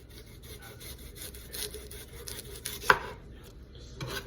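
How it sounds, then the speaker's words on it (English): A kitchen knife shaving the root ends off onions: quiet scraping, cutting strokes with one sharper snap partway through, close and unaccompanied by talk. "We're gonna go ahead and shave that off, and that will go to the compost."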